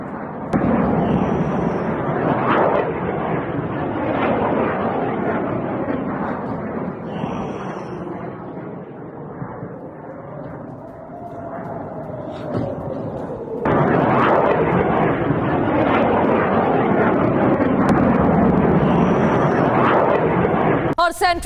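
Rockets fired at Haifa being intercepted, heavy rumbling blasts and a roaring broadband wash that sweeps through the scene, with a voice speaking over the noise throughout.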